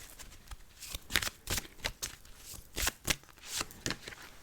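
Tarot and oracle cards are shuffled close up by hand, making a run of crisp riffling and slapping bursts in an uneven rhythm. The sound is fairly quiet and heard alone, with no talking.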